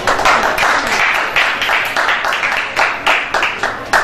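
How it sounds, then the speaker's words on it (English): An audience at a 2012 election event gives a round of applause, loud and close, with rhythmic individual claps pulsing through the steady clapping. "please give a round of applause to Mr."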